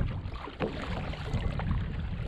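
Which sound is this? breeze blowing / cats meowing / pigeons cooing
breeze blowing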